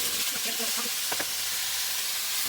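Ground beef (hamburger) and cubed sweet potatoes sizzle and fry in a pan, a steady loud hiss close by with a few stirring knocks partway through.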